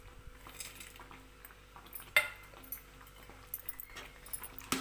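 A spoon scraping and clinking against a pan while stirring thick rava kesari, scattered metallic knocks with one louder clank midway, close and fairly quiet with no talk.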